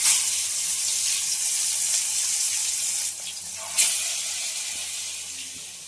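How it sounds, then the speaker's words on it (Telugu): Fish pieces frying in hot oil give a steady, loud bright hiss that holds with little change, dips briefly partway through, then swells again before easing slightly. "చేప ముక్కలు అనేది ఫ్రై చేసుకున్నాం"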